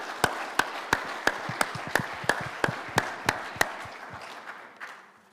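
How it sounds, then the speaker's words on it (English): An audience at a Botany electorate candidates' meeting gives evenly spaced, crisp claps at a steady moderate rhythm, fairly quiet and sparse, tapering off after about four seconds. "big round of applause for both of them"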